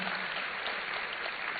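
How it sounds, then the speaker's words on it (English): Applause from an audience at a university event in Ghana, an even, sustained patter of many hands clapping at a moderate distance, with no talk over it. "Another round of applause for him"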